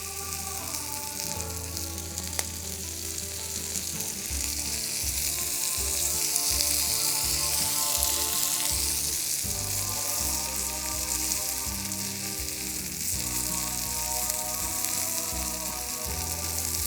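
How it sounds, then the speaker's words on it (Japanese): Chicken pieces sizzle and spit in oil over a Swedish torch fire, a steady, dense crackling frying hiss that holds unbroken from start to finish with no talking. "ちょっともう一発油をかけて最後に焼きをしましょうか。"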